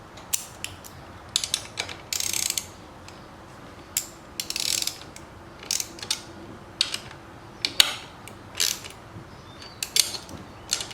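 A ratchet wrench clicks in quick bursts while bolts are tightened on a Works Connection rear caliper guard of a 2018 Yamaha YZ125 motorcycle, close and crisp with short pauses between runs, with no talk.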